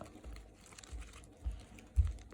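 Soft crinkling of a small plastic packet, a few rustling bursts growing louder toward the end, with no voices.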